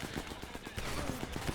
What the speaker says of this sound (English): It's a heavy gunfire